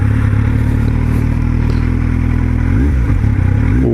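A 2009 Kawasaki Z750 motorcycle engine runs loud and close in a steady throaty idle, then blips the throttle in quick rising revs near the end.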